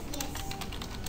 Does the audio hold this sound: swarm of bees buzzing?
no